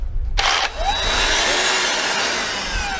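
A DeWalt DCH274 SDS cordless drill running in hammer mode, with a HEPA dust extractor attached: a loud, steady broadband whir and rattle that starts abruptly and holds for the full three seconds close to the mic.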